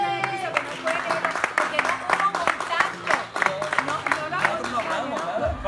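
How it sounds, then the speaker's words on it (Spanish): A studio audience applauding on a Univision TV show set, dense steady clapping that stays loud throughout, with a voice talking over it. "Un aplauso aquí en el piso."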